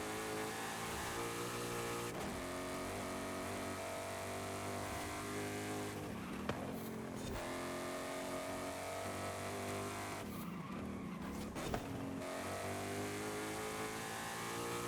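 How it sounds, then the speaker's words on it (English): A Ford Mustang's engine roars steadily at high revs, loud and sustained, with brief shifts in pitch as it accelerates and brakes. "the engine sounds pretty heavy duty"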